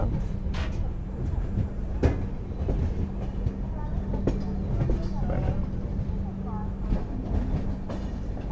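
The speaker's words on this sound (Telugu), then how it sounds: "ఇక్కడ చూస్తుంటే జనశతాబ్ది ఉందండి." Madgaon Jan Shatabdi Express rumbles steadily beside the platform with a low continuous drone, sharp clanks and clicks breaking through now and then, a voice audible faintly in the background.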